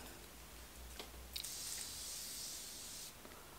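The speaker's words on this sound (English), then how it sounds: "This is a very fine, very nice high-end spray." Dr.Jart+ Cicapair face mist sprayed close up in a quiet room: a single soft, steady hiss lasting under two seconds after a faint click of the pump.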